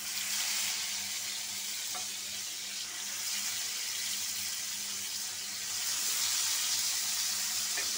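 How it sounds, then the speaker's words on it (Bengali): Mirka fish fry in hot oil in a wok over a raised flame, a continuous broad sizzle with crackle that swells toward the end, close by and with no voices. "মাছগুলা দেওয়া শেষ, চুলাটা একটু বাড়াই দিচ্ছি। মাছগুলা ভাজি হোক।"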